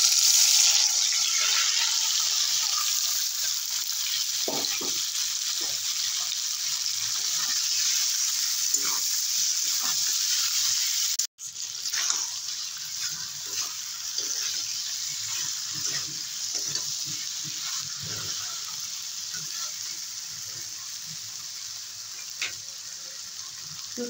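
Cabbage frying hard in mustard oil with dry red chilli and black cumin in a kadai, a loud steady sizzle with intermittent stirring clicks and scrapes, briefly cut off partway through.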